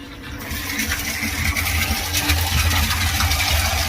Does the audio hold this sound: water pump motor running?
yes